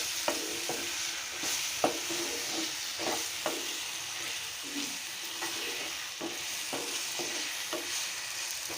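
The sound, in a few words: stirring jaggery into mango chutney in a pan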